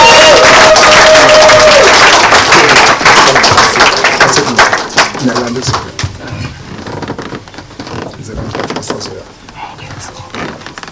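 Church congregation at an ordination service applauding loudly at first, the clapping thinning and fading into scattered claps and murmuring over several seconds.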